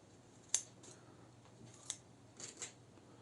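Scissors snip through lining fabric in a few sharp, close cuts, one strong snip then a quieter one and a paired double snip, over a faint low hum with no talking.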